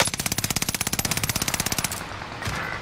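An LC-10 fires in Call of Duty Warzone Resurgence: one sustained, rapid burst of about two dozen sharp, evenly spaced shots that cuts off after two seconds, leaving a faint tail with no talking.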